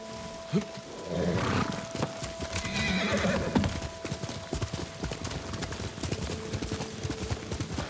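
A horse neighs loudly near the start in the video game Ghost of Tsushima, followed by rhythmic hoofbeats clip-clopping at a quick pace that continues to the end.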